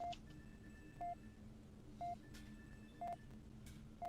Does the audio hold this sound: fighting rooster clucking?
no